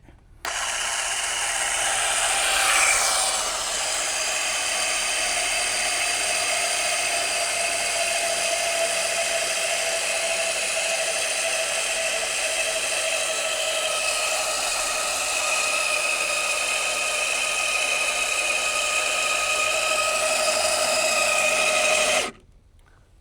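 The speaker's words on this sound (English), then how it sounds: "We're going to raise this up to the height." An AGM Electric Jack PRO runs steadily for about twenty seconds, a loud, even electric-motor whine with no gaps as it lifts a Polaris RZR PRO XP off the ground.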